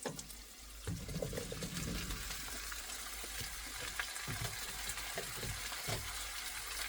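Potatoes tipped into a pot of hot rendered bacon for potato soup, sizzling and hissing steadily with scattered clunks and stirring scrapes as the pieces settle.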